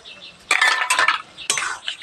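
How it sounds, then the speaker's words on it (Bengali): A spoon stirs chicken curry in a metal pot, scraping and clinking against its sides in two short bursts of close, clattering strokes over a faint sizzle. "ভালোভাবে আবার নাড়াচাড়া দিয়ে দিচ্ছি।"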